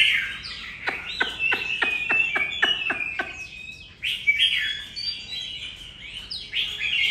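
Nearby small birds chirp and call, with a rapid series of sharp, evenly spaced clicking notes followed by higher twittering and whistled phrases, clear and close against a quiet background.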